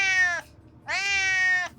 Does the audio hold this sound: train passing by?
no